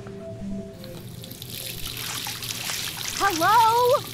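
Water runs steadily from a tap in the video game Life Is Strange, a continuous trickling wash that swells toward the end, with a voice rising over it in the last second.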